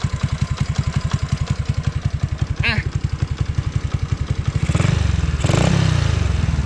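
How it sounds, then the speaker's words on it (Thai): A Honda Wave 100 motorcycle fitted with a new carburetor idles steadily up close, its single-cylinder engine putting out a loud, even run of rapid pulses that swells slightly near the end. "เสียงก็จะออกมาเป็นลูกๆนิดนึงนะครับ ควันไม่ดำ ไม่มีควันดำออกมานะครับ แบบนี้ รอบเครื่องก็นิ่ง ๆเลยนะครับ"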